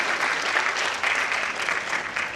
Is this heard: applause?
yes